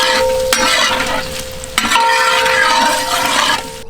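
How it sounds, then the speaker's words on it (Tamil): Onions fry in hot oil in a pan for a prawn garlic curry, sizzling loudly and close while a spoon scrapes and stirs in a few sweeping strokes, with a faint steady tone underneath. "வெங்காயத்தை ஒரு கிண்டி விட்டு விடுவோம்க்கா."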